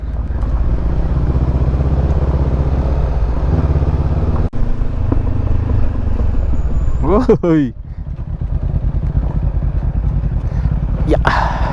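A motorcycle rides a rough, dusty road between Pangasinan and Zambales, its engine a steady close drone with rumbling road noise throughout. A rider gives a brief exclamation partway through.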